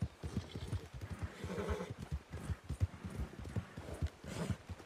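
Horse hoofbeats while riding in Red Dead Redemption 2, a steady rhythmic clip-clop of galloping hooves, close and continuous, with an occasional snort.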